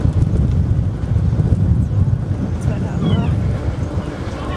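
Strong wind buffets a sailing boat as it docks under sail, a heavy low roaring rush that batters the microphone continuously, close and loud.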